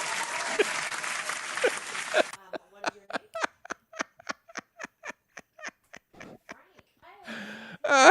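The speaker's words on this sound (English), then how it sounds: "I deserve a round of applause." Recorded applause cue dropped into a sports talk radio show, a short burst of crowd clapping followed by a run of separate sharp hits and a brief swell of noise at the end.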